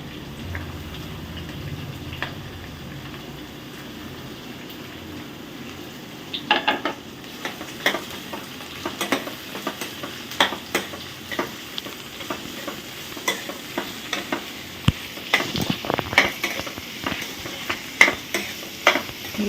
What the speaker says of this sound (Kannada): ಈಗ ಈರುಳ್ಳಿ ಹಾಕ್ತಾಯಿದ್ದೀನಿ.